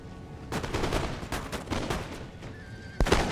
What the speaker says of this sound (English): Just so he can start firing that volley at him.